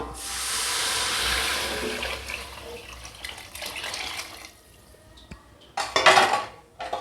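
Water pours steadily into a cooking pot of rice and lentils with a broad rushing splash, then tapers off, followed by a short burst of clanking metal and more splashing.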